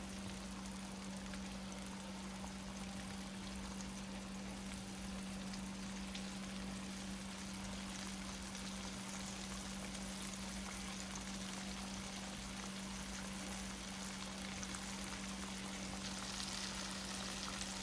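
Shrimp sizzle and fry in a hot pan on medium-high heat with a steady, quiet crackle that continues without pause and without any speech.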